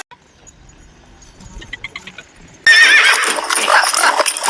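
A horse on a snowy street in Germany: soft, rhythmic hoof clip-clops at first, then a loud, sustained neigh that runs to the end, close by with no talking.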